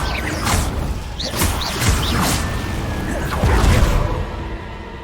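Confringo blasting spell cast in Hogwarts Legacy, a string of whooshing bursts with crackling impacts and thuds, several hits spread across a few seconds over busy game ambience.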